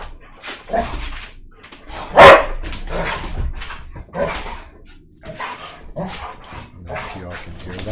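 Several dogs bark, yip and snarl in a scuffle, with bursts of close, loud barking and whimpers spread unevenly across the stretch, one sharp yelp standing out.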